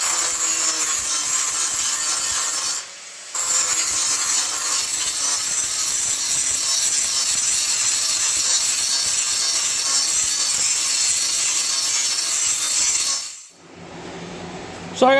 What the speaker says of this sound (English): I'm going to go ahead now and get this here all grinded up and get this trimmed off.